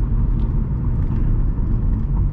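Interior drone of a 2023 Tata Punch CNG with a BS6 Phase 2 engine pulling hard in second gear, a loud, steady low rumble of engine and road noise with no talking.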